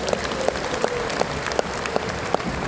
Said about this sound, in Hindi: दोनों हाथ ऊपर करके एक बार अपने आप के लिए ताली भी बजा दीजिए